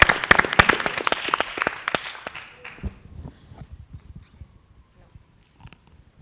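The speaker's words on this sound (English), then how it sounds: "They deserve an applause" A small audience at a marine protected area project event in Roses claps loudly with sharp, distinct individual claps, then the applause thins out and dies to a few scattered claps and faint room noise.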